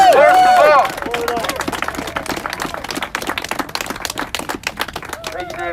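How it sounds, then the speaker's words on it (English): A rally crowd in Washington DC breaks into applause after a speaker's voice, a dense rapid patter of many hands that continues for several seconds, fairly close, with voices rising again at the end. "Another big round of applause for David."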